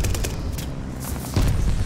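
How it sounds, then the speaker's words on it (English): Gunfire bursts and a booming grenade blast in the Call of Duty: Vanguard shooter, loud, dense rattling shots with a heavier thump toward the end, no voices. "Before I died, I threw a grenade."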